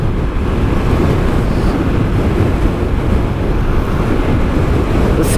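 Strong wind roars steadily and loudly across the microphone during a dual-sport motorcycle ride on a gravel road in Tasmania's Central Highlands between Great Lake Lookout and Miena, a constant low buffeting rumble with no talking.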